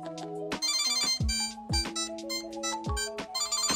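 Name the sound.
Apple AirTag playing its ringtone alert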